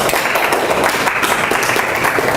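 Dense, even applause from an audience at a lecture session fills the room, loud and close throughout.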